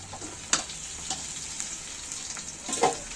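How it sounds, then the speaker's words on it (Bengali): Pointed gourd frying in hot oil, a soft continuous sizzle with occasional crackles and a couple of light utensil taps, close but fairly quiet. "বাকি যে তেলটা আছে সেই তেলের মধ্যেই পটলগুলো আমি ওর মধ্যে তুলে দিচ্ছি"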